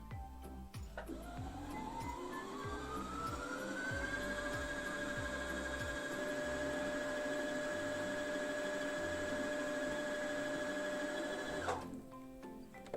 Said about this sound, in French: on lance la machine. Avec les pédales, on va juste appuyer sur les pédales et on va laisser la machine du coup remplir la petite bobine.